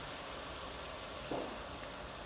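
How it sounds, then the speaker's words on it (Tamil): Masala spice powders frying in oil with ginger garlic paste for chicken biryani, giving a steady, fairly soft sizzle throughout with a brief stirring scrape. "இப்போ நம்ம எடுத்து வச்சுருக்கிற மசாலாஸ் போடலாம்."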